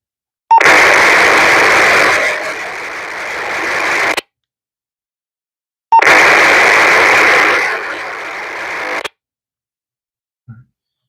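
Two loud bursts of hissing, warbling P25 digital radio noise from an FRS radio, each a few seconds long, separated by silence, followed by a tiny click.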